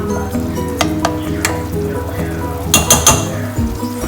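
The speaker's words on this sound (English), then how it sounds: "Stir again and see that nothing is sticking to the pan." Country chicken curry sizzling loudly in a pan as it is stirred, a steady close hiss of frying with scraping spoon strokes and sharp metallic clinks of utensil against the pan.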